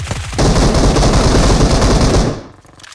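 Dense automatic gunfire in a video game rattles for about two seconds in a loud, continuous burst, then cuts off to quieter room sound.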